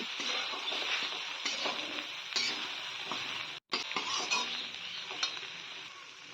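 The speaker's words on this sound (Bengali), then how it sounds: "লবণ আর হলুদ একই সঙ্গে দিয়ে দিলাম সুন্দর করে নেড়ে চেড়ে নিচ্ছি" Ground spices with salt and turmeric frying in a pan for a spicy dry fish recipe, stirred steadily with a spoon: a continuous close sizzle with scraping strokes, and one brief dropout midway.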